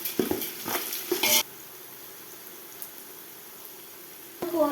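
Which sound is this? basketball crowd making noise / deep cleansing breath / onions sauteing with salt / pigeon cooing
onions sauteing with salt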